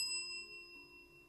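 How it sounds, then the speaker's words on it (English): A single bell struck once, a bright ding whose clear ringing tone lingers and slowly decays in a quiet room. "And that's why I got the bell, Jam."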